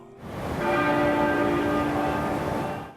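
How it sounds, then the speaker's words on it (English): A large church bell tolls once for Queen Elizabeth's state funeral, its deep toll swelling and then sustaining with a long, resonant hum. "Bells tolled 96 times, once for every year of the Queen's life"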